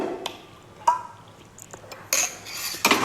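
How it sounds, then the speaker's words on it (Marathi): Soaked moong dal spooned into a bowl for crispy puri dough, a few short metallic clinks and scrapes of a spoon against the dish, close and separated by quiet gaps. "आता ही मुगाची भिजलेली डाळ घालूया आपण"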